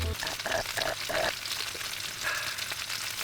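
Food sizzling and frying in a pan at a motorbike campsite, a steady crackle with a few sharper spits, while people talk nearby.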